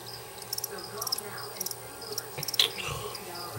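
Crickets chirp in short repeated bursts in a room where leopard geckos are kept and fed, the trills fairly close and steady over a low background hum, with no talking.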